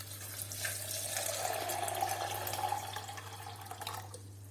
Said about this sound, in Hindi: और इसमें मैं डालूंगी 3 से 4 कप पानी।